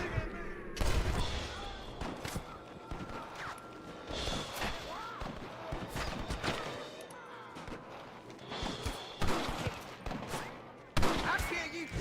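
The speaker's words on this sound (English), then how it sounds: "Stop shooting at me!" Bursts of video game gunfire and volleys of shots in Red Dead Redemption, crackling repeatedly over a busy background with thuds and a player's voice talking in between, steady action across the whole stretch.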